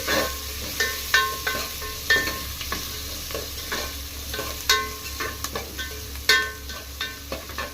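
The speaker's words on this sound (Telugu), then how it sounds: "ఇది రంగు మారకుండా కొంచెం మగ్గించుకుంటే సరిపోద్ది ఆనియన్స్ అనేవి" Onions with crushed garlic and asafoetida sauté in a pan, a steady close sizzle broken by irregular scraping stirs and light clicks of a spoon against the metal.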